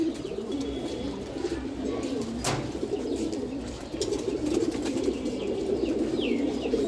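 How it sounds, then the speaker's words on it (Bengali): Pigeons in a Bengali pigeon loft keep up a low, continuous cooing with a few chirps and a brief sharp knock partway through, nearby and unaccompanied by speech. "এই যে উস্তাদের কবুতরটা"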